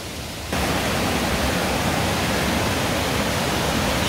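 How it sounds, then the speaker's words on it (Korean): Rushing water of Biryong waterfall on Seoraksan, a loud, steady broadband roar that swells in after a brief quieter moment and then holds constant and close. "시원한 물줄기."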